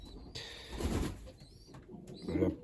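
Pigeons coo softly at close range, a few low throaty calls rising between faint rustling and wing flutters in a quiet setting.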